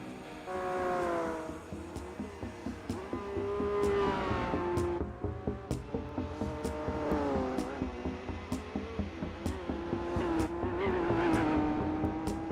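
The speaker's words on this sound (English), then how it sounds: "You can just hear the tires screeching from just going straight." Tires squealing in Gran Turismo 4 as an AI-driven car runs down a straight, sustained wavering squeal over steady engine drone, with repeated short clicks throughout.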